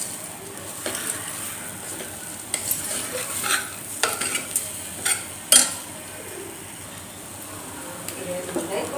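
Turmeric being stirred into a hot pan of sizzling oil while cooking Andhra mango dal, a soft continuous fry with intermittent scraping clinks of a spoon against the pan, a voice talking over it.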